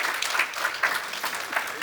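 Audience at a church vision night event applauds, a brief burst of many hands clapping with a few voices faintly audible.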